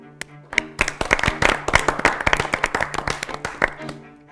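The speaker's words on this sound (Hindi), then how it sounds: "इन दोनों टीम्स के लिए जोरदार तालियां।" Clapping for the two winning teams of a history quiz show rings out as irregular hand claps that build into a short burst of applause. Voices talk underneath the whole time.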